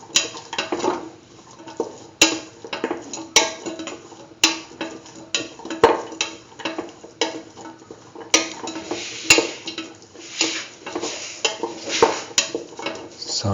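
Spoon stirs and mixes a beetroot chickpea dip with cumin powder and salt in a pan, giving repeated scraping, clinking strokes close up, with a steady rhythm of sharp knocks against the metal.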